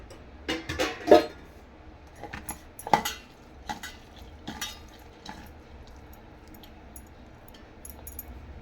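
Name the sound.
mixing jowar flour vada batter with onions and oil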